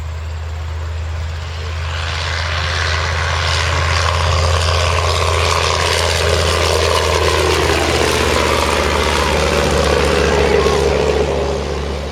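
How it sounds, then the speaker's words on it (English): A Wright Whirlwind radial-engine propeller airplane, a three-seat aircraft, drones smoothly and steadily, its deep engine hum swelling slightly as it passes, with no talking. "You are going to hear one of the smoothest sounding radial engines of all time"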